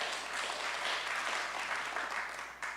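Church congregation applause at a service in New York, dense and continuous clapping from a large crowd that holds steady and eases off slightly at the end.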